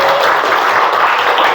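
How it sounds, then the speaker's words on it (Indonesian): Classroom students clap their hands together in a brief burst of dense, continuous applause, loud and close, with no talking over it. "Kita tepuk tangan lagi."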